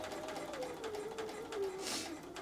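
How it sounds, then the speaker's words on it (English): A sewing machine stitches quilt pieces along a diagonal line with a regular straight stitch, a quiet, rapid mechanical whirring that runs steadily, close by and faint, with no talking. "I sew it basically from dot to dot"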